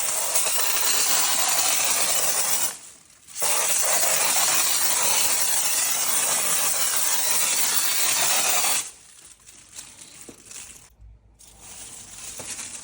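Penosil Easy Spray expanding foam discharged from an applicator gun fills a gap in a loud, steady hiss, with a short pause near three seconds and an abrupt stop around nine seconds, followed by quieter handling noise.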